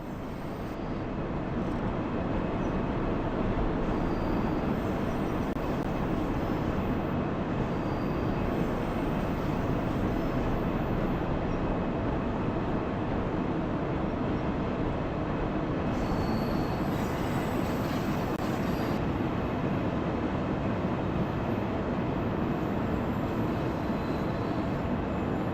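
A train runs steadily in the Train Sim World game on the Ruhr-Sieg Nord route, a constant dense rumble of wheels and running gear holding level for the whole stretch with no voices.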